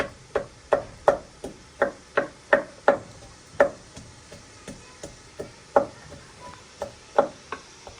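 A knife chops tomatoes on a board in sharp, evenly spaced knocks, about a dozen crisp close-up cuts in a steady rhythm with no talking.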